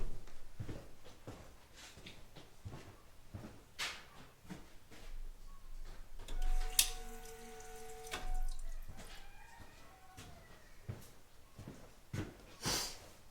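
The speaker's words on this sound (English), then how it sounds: "You'll see the fuel pouring out." Fuel splashing and trickling out of a faulty fuel pressure regulator on a car in a repair shop, with a steady pour, scattered clicks and taps, and a brief humming tone partway through.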